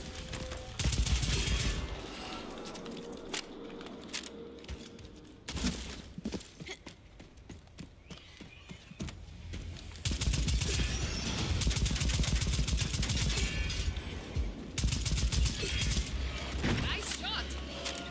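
Gunfire from the dinosaur-hunting game Second Extinction, a rapid automatic fusillade that clatters loudly in bursts, with a quieter stretch midway, mixed with game effects and voices talking over it.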